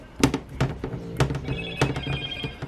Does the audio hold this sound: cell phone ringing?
yes